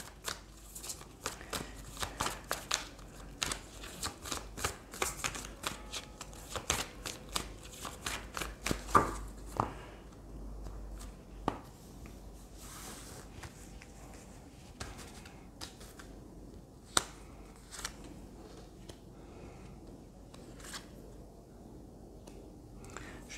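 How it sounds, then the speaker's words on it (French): Triade oracle cards are shuffled by hand for a long stretch, with rapid soft riffles and crisp slaps of the deck coming in irregular bursts, close and quiet, then thinning out toward the end. "je vais prendre quelques cartes de l'oracle de la Triade"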